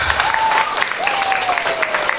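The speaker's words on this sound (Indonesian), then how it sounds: "Tepuk tangan." Audience applause at an Islamic school graduation ceremony, loud and dense many-handed clapping throughout, with a thin whistle-like tone drifting over the crowd.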